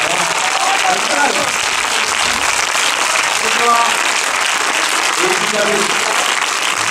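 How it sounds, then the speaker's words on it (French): An audience applauding the two film directors at a premiere screening, loud sustained clapping filling the room, with voices mixed in beneath. "On va les applaudir très très fort."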